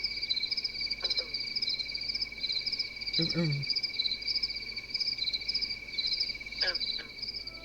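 Frogs croak in short bursts by a lake against a constant high chirring of insects, with a few louder croaks standing out nearby.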